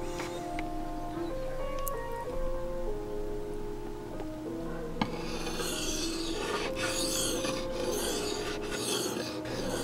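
Bushcraft knife edge ground on a 600 grit sharpening stone, giving steady scraping strokes that turn into a quick, regular rhythm of rasping passes, close and fairly quiet with no talking.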